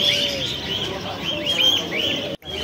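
Caged birds at a bird market, including budgerigars, chirp and tweet steadily in a dense, close chorus with repeated high calls, broken by a brief drop near the end.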